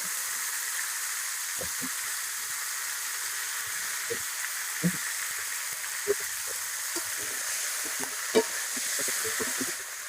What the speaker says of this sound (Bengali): ফুলকপি আমি তেলে ভাজা নেবো